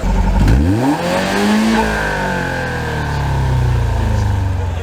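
Race car fitted with a Prius engine and a muffled stock eco exhaust, accelerating hard with a rising engine note that climbs, shifts and keeps pulling at close range.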